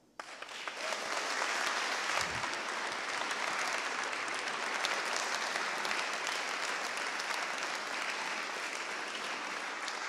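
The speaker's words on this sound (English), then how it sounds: "I really want a big applause for our volunteers" A security conference audience applauds its volunteers, dense steady clapping starting abruptly and continuing loud and even for about ten seconds.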